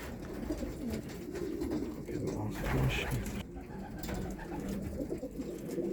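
Homing pigeons coo softly and steadily inside a loft in Szczecin-Dąbie. The repeated low coos sit under people talking quietly close by.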